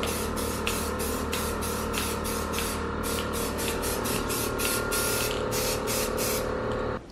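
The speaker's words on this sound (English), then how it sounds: "is ready for spray paint" Close spray paint hissing in a long run of short bursts, loud and rhythmic, before stopping at the end.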